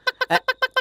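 A voice mimics a hen with six quick, clipped clucks in a steady rhythm, close and fairly loud.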